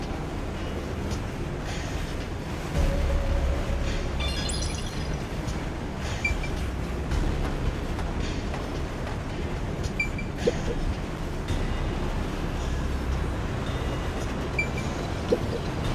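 A train rides through a long tunnel in the video game Rain Code, with a steady, dense rumble and rattle that carries on evenly throughout.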